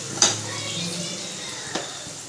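Soft sizzling from onions sautéing in a pan with garlic fills the background, with a couple of sharp clinks of a utensil against the pan.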